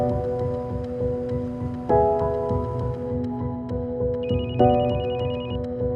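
A cell phone ringtone plays loudly and close, a repeating electronic melody with bright chiming tones and a higher trill near the end, with no voices.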